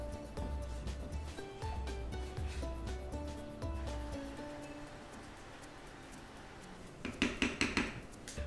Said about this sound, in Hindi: बैक ऑफ द स्पून से रगड़िए फ्राइंग पैन में ताकि ये स्मूथ हो जाए